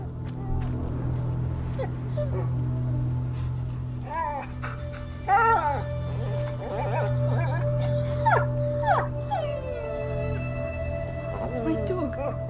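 A hurt dog whimpers and whines in the medieval adventure game A Plague Tale: Innocence, thin high cries rising and falling over a low steady drone, with voices talking at points.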